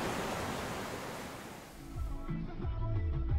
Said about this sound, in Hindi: दरियाई नाले का शोर सुनाई दिया, जैसे कोई दीवाना पत्थरों पर सर मारता हुआ जा रहा हो।